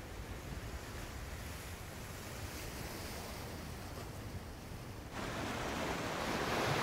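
Ocean waves wash at the open sea surface in a steady, close, broad hiss that swells louder toward the end, with no voices.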